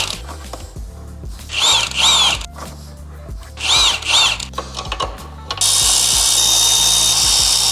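Impact gun rattling loose the lower ball joint bolts on a VW Fox GTI, with several loud hammering bursts in a row and then a steady rush of air.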